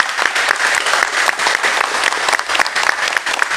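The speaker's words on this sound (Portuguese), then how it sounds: "vamos assim uma calorosa salva de palmas" A church congregation gives a warm round of applause, dense and loud clapping from many hands filling the room evenly for a few seconds without a break.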